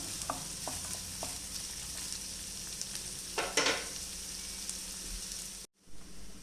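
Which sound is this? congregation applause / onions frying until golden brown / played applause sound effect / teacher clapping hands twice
onions frying until golden brown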